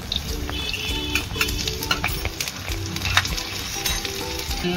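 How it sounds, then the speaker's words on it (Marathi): Mustard seeds and crushed garlic sizzle and crackle steadily in hot oil, a close, continuous frying hiss with scattered small pops, while a spoon occasionally stirs through the pan; no voices are heard. "मोहरी टाकू, ठेचलेला लसूण टाकूया"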